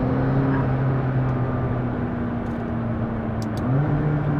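The turbocharged engine of a McLaren MP4-12C drones loudly from inside the car at a steady pitch, then shifts with a brief dip and rise in tone.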